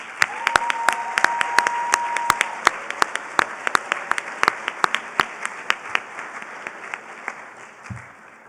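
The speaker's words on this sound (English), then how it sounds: "You deserve as well a warm round of applause from all of us for all of your support for your graduate." Applause at a university humanities graduation convocation starts as a sustained wash of clapping from a large hall, then thins into scattered individual claps near the end.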